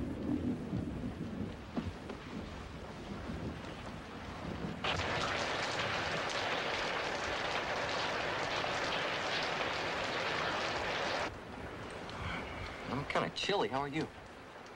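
Heavy rain pours down steadily while a storm rumbles, growing into a loud, dense downpour through the middle before easing slightly, with people talking over it near the start and end.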